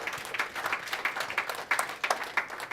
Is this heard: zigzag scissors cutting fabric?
no